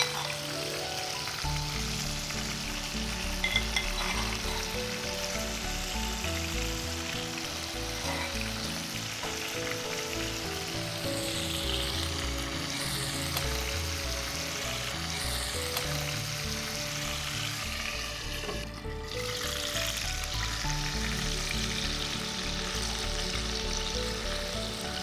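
A chicken kebab filling fries in a pan with gravy, giving a constant bubbling sizzle that stays close and fairly loud throughout, with no talking.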